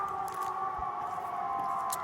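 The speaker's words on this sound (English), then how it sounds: "we hear sirens blaring" A siren wails steadily outdoors on a chilly day, a sustained mid-pitched tone running unbroken through the whole stretch at moderate, somewhat distant volume with faint background noise.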